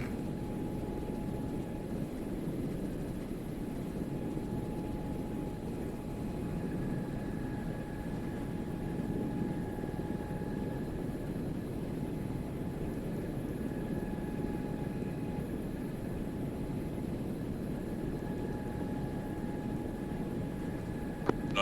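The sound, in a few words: helicopter engine spooling up in a military video game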